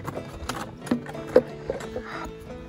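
A donkey shifts about in its pen, giving a run of soft, irregular hoof thuds and knocks at close range with scattered small rustles between them, and no voices over it.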